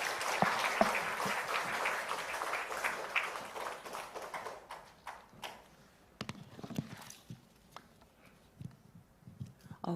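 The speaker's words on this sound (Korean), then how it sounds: "뜨겁게 박수 한번 하겠습니다." A church congregation at a Sunday service gives warm applause, dense clapping for the first few seconds before thinning into scattered claps and quieter room noise.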